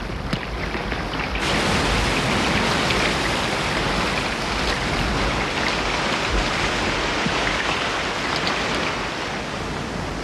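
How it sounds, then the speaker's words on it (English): Rain pours onto Uluru, the great rock in the Australian desert, a loud, dense, unbroken hiss of falling water that stays even throughout with no voices. "We're in the desert and it's raining on the rock."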